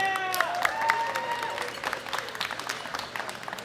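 An audience claps steadily at the 2018 World Classic Powerlifting Championships, women's open 84+ kg medal ceremony, a dense patter of applause with a voice briefly heard over it at the start.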